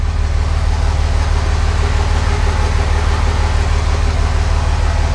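A car engine idles steadily nearby with a low, even rumble, holding the same pitch and loudness throughout as the car is moved; no voices are heard.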